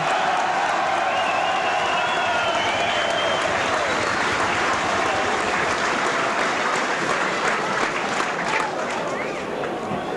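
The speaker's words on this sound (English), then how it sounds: "Jeff Wildman Robinson getting a good round of applause from the Halifax crowd" Steady applause from a Halifax rugby league crowd at the ground as Warrington visit, a dense wall of clapping for a player leaving the field, sustained and even throughout with a commentator's voice faintly beneath.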